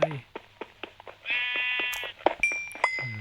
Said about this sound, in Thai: แกะนี่น่าตีมากเล่นเสียงเนี้ย